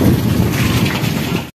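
Heavy rain pouring down at night during a thunderstorm with lightning, a loud, dense, continuous roar close by that cuts off abruptly.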